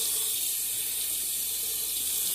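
Water running steadily from a tap to wet a shaving brush, a continuous bright hiss of flowing water with no talk.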